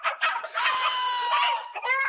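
Hens clucking inside a grandmother's hen house, with rapid overlapping clucks and squawks close by, loud and busy without any talking.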